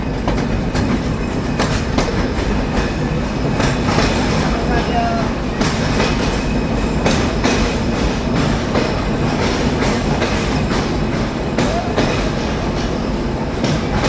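A train rolls into Poradah railway junction in Bangladesh at night, with a continuous rumble and clickety-clack of wheels heard from on board, loud and steady throughout.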